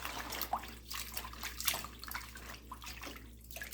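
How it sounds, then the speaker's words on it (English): Mustard greens being rinsed in a basin of lightly salted water, with soft continuous splashing and trickling close by, steady and fairly quiet throughout, with no talking. "So I'm going to rinse them a few times."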